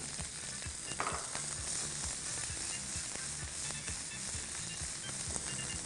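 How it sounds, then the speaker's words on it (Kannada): Capsicum frying in hot Fortune Sunlight sunflower oil, a steady close sizzle with faint stirring scrapes running throughout, no talking. "ಎಣ್ಣೆ ಕಾದಿದೆ. ಈಗ ಇದಕ್ಕೆ ನಾವು ಕ್ಯಾಪ್ಸಿಕಮ್ ಹಾಕೋಣ."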